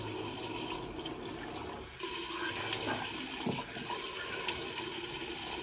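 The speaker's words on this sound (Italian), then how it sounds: "Andiamo a scaldare un po' l'acqua e a" Tap water runs steadily into a sink to wet the face before a shave, a continuous close splashing stream that shifts slightly as hands move through it.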